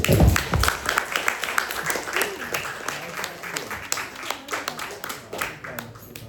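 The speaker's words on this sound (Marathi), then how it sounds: "त्यांना जोरदार टाळ्या." Applause from an audience for student performers at a Marathi college manuscript-publication ceremony, a steady wash of clapping hands throughout, louder at the start and gently fading, with faint talk beneath.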